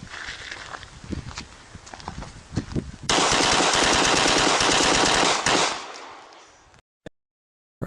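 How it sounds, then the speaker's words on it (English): Magnum gunfire in a video game bursts in loud and sustained for a few seconds, following quieter scattered impacts and movement sounds, then cuts out. "Hutch handling the recoil of the Magnum now that he has a big gut"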